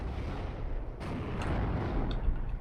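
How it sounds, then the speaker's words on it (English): A 17-pounder anti-tank gun fires in a Second World War video game battle at Collombelles, a dense booming blast with rumbling low-end reverberation that carries on for a couple of seconds. "The 17-pounder getting shot off here."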